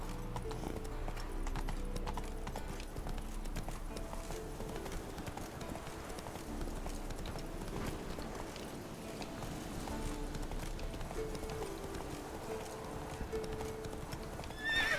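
A horse gallops in The Witcher 3, its hooves drumming in a dense, continuous clatter for the whole stretch, with a whinny mixed in among the game's steady background sound.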